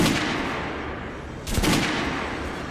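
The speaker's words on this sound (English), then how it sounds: "Head over to my range and try out those guns" Gunfire on a shooting range in the video game Metro: Last Light Redux, a loud dense burst of shots with a sharper blast near the middle, no talk.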